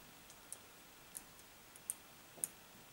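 Small plastic Terminator Genisys endoskeleton kit parts snap together in four sharp, faint clicks spaced about half a second apart over a quiet background.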